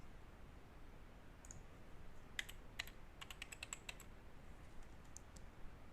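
Short bursts of clicks on a computer keyboard as a basic password is entered, quiet and close, with irregular groups of keystrokes over a soft background hiss.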